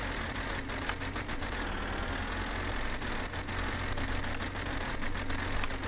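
A car engine idles in the My Summer Car video game, a steady low rumble holding even throughout with faint intermittent clicks on top and no voices.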